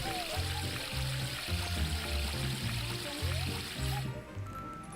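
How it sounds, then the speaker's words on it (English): Water streaming in the Astro Bot video game, a continuous splashing trickle over a pulsing game soundtrack, steady and moderate before thinning out at the end. "Water."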